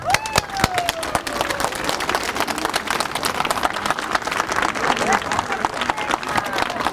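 An audience at a civic forum in Freedom Square applauds and cheers to greet a speaker, loud dense clapping throughout with crowd voices mixed in.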